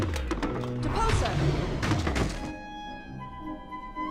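The Depulso spell in the Harry Potter and the Order of the Phoenix video game pushes an object with a few hollow thunks and thuds, then settles into a ringing, chime-like magical tone.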